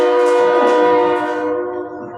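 A train passes close by during a Dunsmuir city council meeting, its horn sounding loud and steady with strong sustained tones that slowly fade as it moves away.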